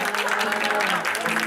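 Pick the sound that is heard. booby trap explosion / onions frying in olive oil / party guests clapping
party guests clapping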